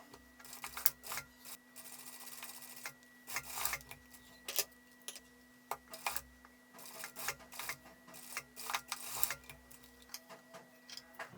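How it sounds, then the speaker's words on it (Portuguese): A straight-stitch sewing machine runs in short bursts as it sews seams to fix small pleats in fabric for a cropped top, faint rapid ticking runs separated by brief pauses, with a steady hum underneath. "eu vou lá para a máquina reta, eu vou passar uma costura aqui e uma costura aqui pra gente fixar essas preguinhas"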